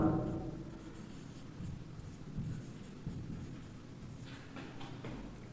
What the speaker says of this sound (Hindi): मैं क्वेश्चन यहाँ पे लिख रहा हूँ।